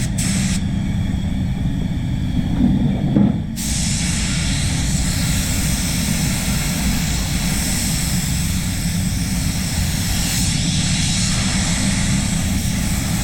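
A SATAjet spray gun sprays candy paint onto a car in a loud, constant broadband hiss that drowns out a lower rumble, with a few brief knocks near the start.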